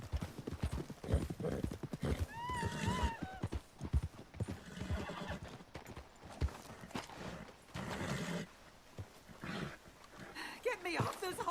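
Horse in the Red Dead Redemption 2 video game, hooves clip-clopping steadily with a couple of neighs and whinnies rising over a busy scene, voices talking throughout.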